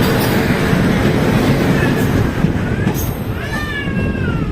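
A passenger train passes a Jan Shatabdi Express train in an overtaking move, producing a loud, dense rumble and rattle of wheels and carriages close by, with faint squeals rising over the noise.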